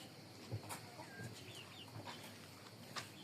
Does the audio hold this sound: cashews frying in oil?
no